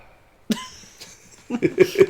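A sharp single cough, followed after a pause by a short burst of several coughs in quick succession, close to the microphone.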